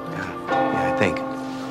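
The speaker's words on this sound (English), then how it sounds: "what are those bells? Church bells." Church bells ring with sustained tones, brief and moderately close, while a voice speaks over them.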